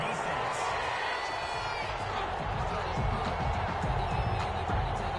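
Angry, booing football stadium crowd in a PS4 football game after a penalty flag on third down, a steady dense roar of many voices with thumps and rustle throughout, fairly loud.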